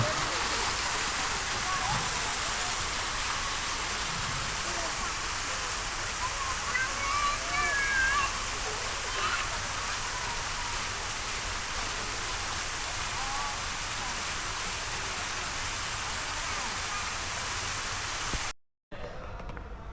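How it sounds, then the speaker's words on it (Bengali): Continuous rushing, splashing water from three lit fountains in a park fills the whole stretch, a dense steady roar like fountains pouring nearby, cutting out abruptly near the end. "এখানে তিনটা ঝর্ণা আছে দেখুন লাইটের আলোয় কি সুন্দর ভাবে"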